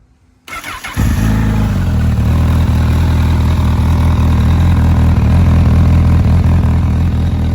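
A Honda Hornet 1000SP motorcycle with stock exhaust cranks and fires up, then settles into a loud, steady, throbbing idle close by.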